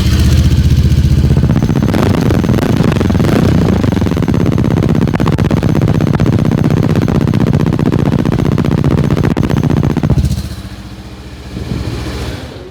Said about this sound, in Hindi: ये आपका एग्जॉस्ट नोट है।